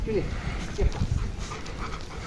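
A dog pants quickly and audibly up close while being introduced to another dog, with a person talking over it.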